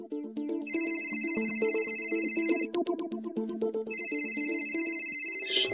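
A phone rings with a bright electronic ringtone: a repeating melodic pattern of layered tones with short pulsing bursts between phrases, clear and unbroken.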